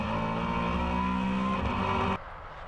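Maserati Trofeo race cars roaring around VIR raceway, a loud sustained engine howl at full throttle that cuts off abruptly near the end, leaving quieter ambient track noise.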